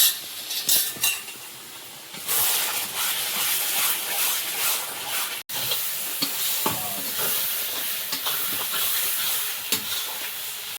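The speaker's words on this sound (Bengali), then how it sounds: "একটু একটু জল দিয়ে দিই মশলাটা ভালো করে কষিয়ে নেব" Masala paste of ground chili and black pepper sizzles and fries in a pan with splashes of water, stirred steadily while cooking for a mutton curry; continuous close hiss and crackle with occasional scraping of the spoon, no talking.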